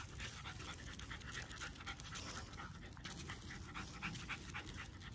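A dog on a leash pants steadily and closely, with rhythmic quick breaths running throughout alongside faint outdoor background noise.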